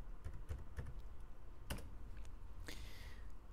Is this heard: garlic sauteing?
no